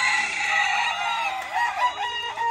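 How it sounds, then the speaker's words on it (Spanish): Chickens on a farm hillside in Puerto Rico cluck and call close by, with a rooster's drawn-out crowing and some overlapping bird chatter. "Hay unos pollos bien preciosos"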